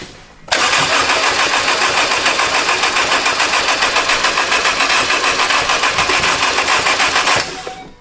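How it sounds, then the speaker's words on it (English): A forged turbocharged engine cranks on the starter without catching, a loud rapid rhythmic churning that runs steadily for about seven seconds and then cuts off, with no voices. "It should have started by now. Let's see. Keep cranking her."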